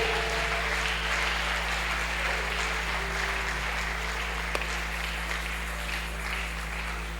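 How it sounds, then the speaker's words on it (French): Congregation applauding during a Sunday church service, a steady wash of many hands clapping throughout, moderately loud and continuous with a low hum beneath and no one speaking. "Nous acclamons le Seigneur."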